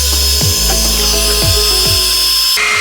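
An iTeraCare Classic terahertz blower device runs with a steady, loud whirring hum and a thin high whine, a few low thumps early on, and a slight shift near the end, with no talking.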